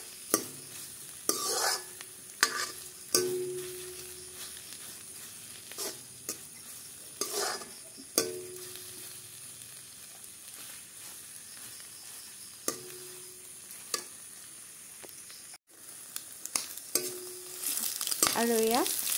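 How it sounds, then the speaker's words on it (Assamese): An egg mixture frying in oil in a pan, with scattered sharp stirring clatters and scrapes over a quiet sizzle, ending in a brief louder burst of frying noise. "একেবাৰে শেষত মই গোটেইখিনি তেলত ভাজি পেলালোঁ"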